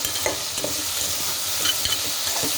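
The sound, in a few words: stirring brinjal and okra frying in a pan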